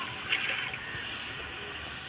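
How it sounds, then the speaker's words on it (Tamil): Coconut milk pours into a large rice pot for a two-kilogram vegetable biryani, a soft continuous liquid splash with a gentle stream sound throughout, fairly quiet. "அதுக்கு பதில் நம்ம வந்து தேங்காய் பால் ஊற்றுறோம்."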